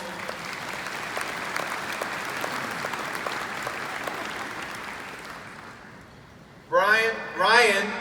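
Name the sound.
round of applause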